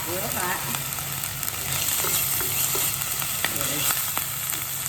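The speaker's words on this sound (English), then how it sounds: "I'm gonna go ahead and saute my ginger and my onion" Ginger sizzling in an overheated pan, a steady, dense, close frying hiss with small crackles and faint stirring scrapes throughout, no voices.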